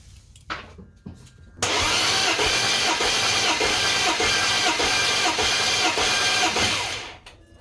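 A BMW engine with 222k miles cranks steadily on the starter during a compression test, a loud rhythmic churning that starts after a few brief clicks and runs for about five seconds before stopping, with no talk.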